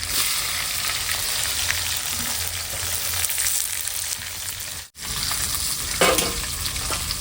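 Onion sizzles loudly in hot oil with green chilies and curry leaves, a dense continuous frying hiss broken by a brief pause and occasional stirring scrapes, close and with no talk.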